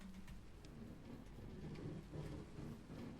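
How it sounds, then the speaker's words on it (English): Faint, steady video game rain hisses in the background, a soft continuous patter with occasional light drops and no talking. "And it's raining."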